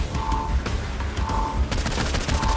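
In Saints Row IV gameplay, volleys of gunshots crackle in quick bursts over rumbling explosions and intermittent electronic tones, loud and close, intensifying toward the end.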